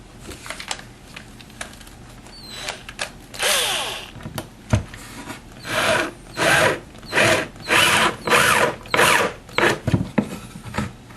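A power drill drives screws through a piece of scrap wood on an arcade cabinet control panel, with short handling noises first, then a run of rhythmic whirring bursts, close and fairly loud, without talk.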